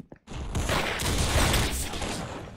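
AKM rifle fire in the Roblox game Arsenal: after a brief click, a rapid burst of automatic shots rolls into dense, sustained gunfire over a low rumble of game sound.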